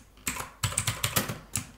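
Code typed on a computer keyboard in short bursts of crisp, close key clicks, a few quick taps, a pause, then another cluster, heard alone without any talking.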